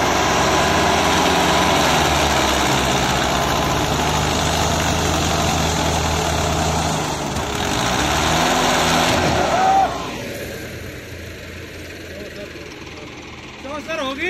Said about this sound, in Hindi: चार ट्रैक्टर है